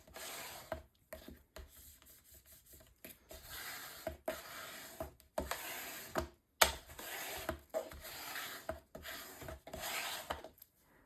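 A bone folder rubs and presses paper onto an album cover in short, scraping strokes, faint and close, with small pauses between passes.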